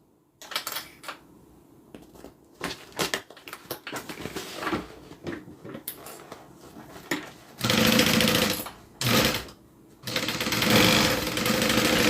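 A sewing machine stitches a bag's side seam to its bottom, with short stop-start bursts of stitching followed by two longer, louder runs and brief handling noises in between.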